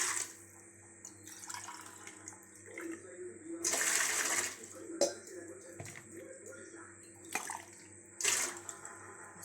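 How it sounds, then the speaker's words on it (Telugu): Water is poured into an idli steamer vessel, sounding as several splashing bursts of pouring and running water up close, separated by quieter gaps. "దీంట్లో ఒక 2 గ్లాసెస్ వాటర్ పోసుకోవాలి"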